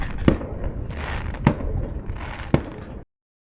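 Fireworks going off in the evening at a Greek harbour, three sharp distant bangs spaced about a second apart over a steady rumbling background, with no one talking.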